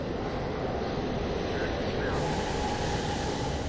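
A train in The Darkness video game rumbles into a station, a loud, steady low roar with a faint rise near the middle, heard close and continuous.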